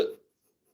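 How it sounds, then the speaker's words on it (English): A single short hiccup, close and fairly loud, that cuts off quickly into near silence. "I have the hiccups"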